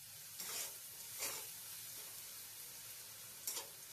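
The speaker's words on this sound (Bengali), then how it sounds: "লবণটাকে দিয়েও ভালো করে নাড়িয়ে চাড়িয়ে নেব," Vegetables frying with salt in a pan give a faint, constant sizzle, broken by a few short scraping strokes as they are stirred, all close by and without any voice.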